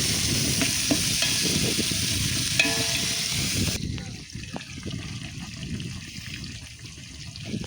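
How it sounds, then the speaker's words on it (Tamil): Onions and tomatoes are stirred and frying in a pot at an outdoor beach cookout, a loud continuous sizzle with scraping stirs that drops to a quieter, thinner fry midway, with faint talk underneath. "இது வெங்காயம், இதுக்கப்புறம் தக்காளி போடுவோம். நல்லா கிண்டிக்கணும்."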